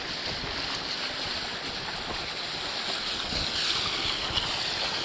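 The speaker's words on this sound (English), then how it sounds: "Yeah, it's windy." Steady wind buffets the microphone in a loud, broadband rush aboard a sailing boat entering Stanley Harbour in the Falklands, with water and boat noise blending underneath.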